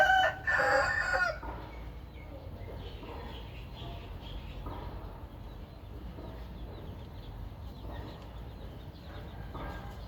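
A fighting rooster crows loudly at the start, then quieter clucking and farmyard rustling follow.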